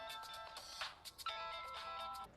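A phone ringtone plays a repeating electronic melody in short bursts, fairly quiet and without any talking.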